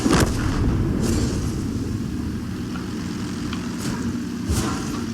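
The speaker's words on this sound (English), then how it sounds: "So this demon tank is really cool with that fire." Cannon fire from a demon-themed tank in World of Tanks during a KISS Metal Fest event, with a sharp blast at the start and later fainter shots over a continuous low engine rumble.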